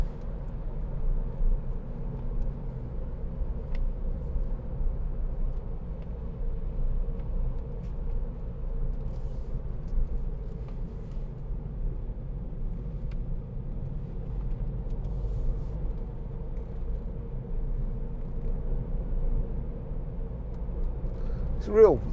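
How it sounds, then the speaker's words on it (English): Steady low engine drone and road rumble from inside a 2016 Ford B-Max 1.0 EcoBoost three-cylinder while driving, an even cabin hum with no voices. "This 3-cylinder engine, real punchy little engine, very economical"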